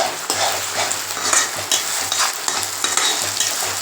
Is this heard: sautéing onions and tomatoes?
yes